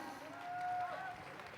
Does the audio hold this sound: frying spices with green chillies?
no